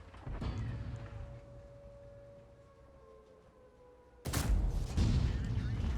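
A KV-2 tank's big gun fires a single heavy HE round in a video game, one sudden loud blast near the end that rolls on with a booming tail, after a quieter stretch of rumbling engine hum.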